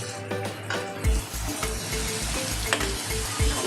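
Spices fry in a pan for a Kathiawadi whole onion curry, sizzling loudly and steadily, with a few scraping stirs and soft knocks against the pan, and no speech.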